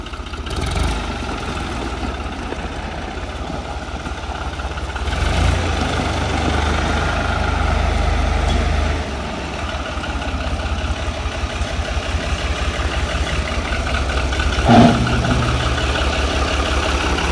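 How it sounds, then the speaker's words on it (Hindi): A heavy diesel engine of an old New Holland tractor idles steadily and close by, a low rumbling throb that swells slightly midway and carries on alone. "तो देख रहे हो भाई कितनी दम है इस ट्रैक्टर में"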